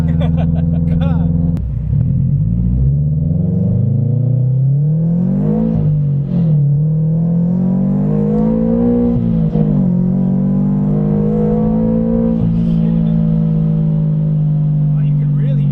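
A boosted Subaru BRZ engine accelerates hard from inside the car, its loud droning note climbing steadily through the revs with brief dips at gear changes before pulling high again.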